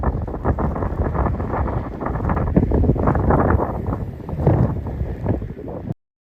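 Snowstorm wind in Ontario buffets steadily and loudly against the microphone, rough gusty roar for about six seconds before cutting off abruptly, with no voices.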